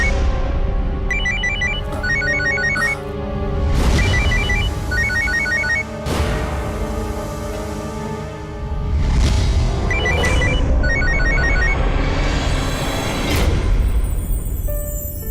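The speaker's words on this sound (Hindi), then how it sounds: "सावित्री फोन क्यों नहीं उठा रही?" A telephone rings on and on unanswered in a drama scene, its repeated electronic ring bursts sounding over loud, booming dramatic music with no talk.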